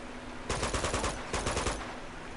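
Machine gun fire in the video game Uncharted 2: two loud, rapid bursts of automatic shots, each about a second long, separated by a short gap and set against a steady background hum.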